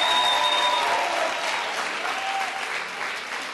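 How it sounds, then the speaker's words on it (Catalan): A studio audience on a Catalan word quiz show gives Joan a short round of applause, dense clapping that starts at full strength and gradually eases off. "Aplaudiment pel Joan, també."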